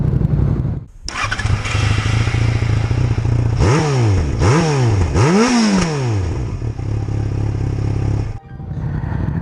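A motorcycle ridden in a group escorted by gendarmes: the engine fires up, idles roughly, then revs in three rising and falling bursts before settling back and cutting off, loud and close.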